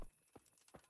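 A horse's hooves in Kingdom Come Deliverance, three soft, evenly spaced clops in quick succession, faint and muffled under a quiet background hum.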